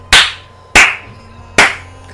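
Three sharp single hand claps, evenly spaced about three-quarters of a second apart, loud and close with no voices.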